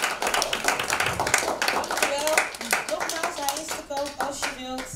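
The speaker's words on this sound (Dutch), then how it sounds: "Mag ik dan alsjeblieft een heel warm applaus voor Meester Kees?" Warm audience applause for Meester Kees at a Dutch gathering, brisk close clapping throughout five seconds with scattered voices and a voice mixed in.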